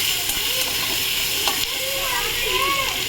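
Chopped tomato hitting hot oil in a pan gives a steady, close frying sizzle with soft hissing and faint stirring scrapes, continuous and even throughout.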